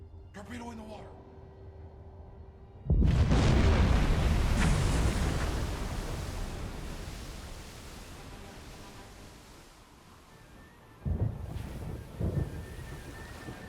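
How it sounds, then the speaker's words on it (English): In Silent Hunter 4, a torpedo hits a freighter with a sudden heavy booming blast that rumbles on and slowly fades, followed by a second burst of crackling rumble; someone talks quietly before the impact. "Explosions! There she's gone."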